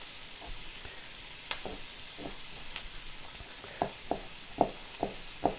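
Sausage sautés in a gumbo pot with a low, steady sizzle. Spoon knocks against the pot fall at irregular intervals, and a row of sharper taps comes toward the end, with no talking.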